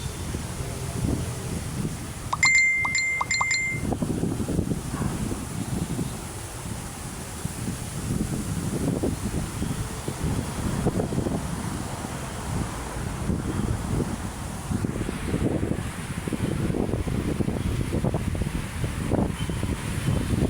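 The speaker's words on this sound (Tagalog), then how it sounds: "Lakas ng hangin, no?" Steady, strong wind by the sea at Manila Bay buffets the microphone in a continuous low roar, with gusts rising and falling throughout and a faint outdoor hiss.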